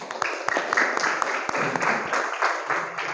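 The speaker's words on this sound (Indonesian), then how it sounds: "Beri tepuk tangan untuk kalian semua." A classroom of students claps for their classmates, irregular and moderately loud, with distinct individual hand claps standing out over a scattered group patter.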